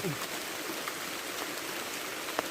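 Steady, soft rain hiss falls outdoors at a mushroom-gathering spot in Thailand, a faint even wash of drops with a couple of small clicks, fairly quiet throughout.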